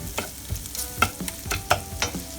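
A spoon scrapes and stirs minced meat in a frying pan in quick, regular strokes over a soft sizzle, close and clear.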